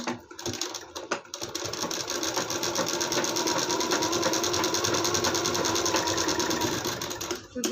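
A sewing machine stitches tucks into a blouse with a fast, steady mechanical rattle that runs almost without a break for several seconds, close and loud, stopping briefly at the start and end.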